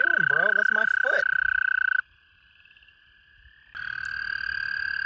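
Toads and frogs calling at a pond during egg laying, loud warbling croaks at close range, a sudden drop to near quiet, then a high sustained trill returning.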